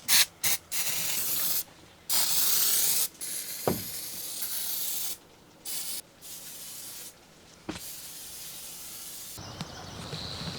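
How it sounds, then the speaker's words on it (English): Penetrating fluid sprayed from an aerosol can onto boat portholes: several loud, sharp hissing bursts of varying length, separated by short pauses and quieter gaps, close to the mic. "I sprayed the rest of the portholes with penetrating fluid"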